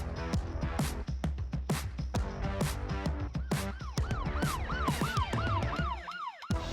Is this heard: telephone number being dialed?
no